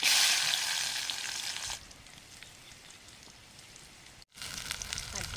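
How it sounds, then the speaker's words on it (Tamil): Onions and green chillies sautéing in a pan with mustard seeds, a loud bright sizzle at first that drops to a softer, steady frying hiss, briefly cut off near the end. "பச்சை மிளகா, நல்லா வதங்கணும்."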